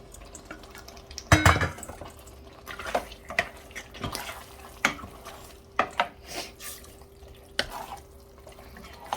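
Boneless chicken being stirred and fried in a pan for butter chicken, with irregular utensil scrapes and clinks against the pan over a soft sizzle and a faint steady hum, no talking.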